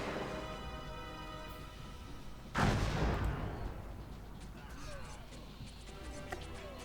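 Musket fire from the Cossacks 2: Battle for Europe strategy game: a single loud, sharp volley cracks out partway through, then fades into a low rumble over continuous battlefield noise.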